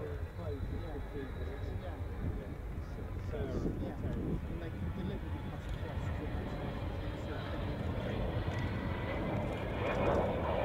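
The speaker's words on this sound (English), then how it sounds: "So Vulcan coming back in towards us." An Avro Vulcan jet bomber roars past at an air show, its deep engine rumble loud and sustained, swelling toward the end, with voices faintly underneath.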